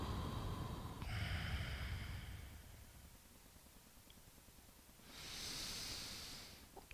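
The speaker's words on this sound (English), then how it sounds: "Slow, controlled breathing in and out of the nose." Slow, controlled breaths in and out through the nose during a bedtime yoga stretch, with a soft airy inhale, a long quiet pause, then another gentle breath, close and hushed.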